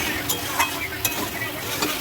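A spoon stirs a mourala fish chorchori with potato and onion in a pan, a few soft scraping strokes over a low sizzle, close and fairly even.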